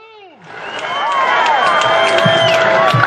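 A crowd at a Wisconsin Tea Party rally cheers and applauds loudly and continuously, building after a short quiet start, with whistles and shouts mixed into the roar.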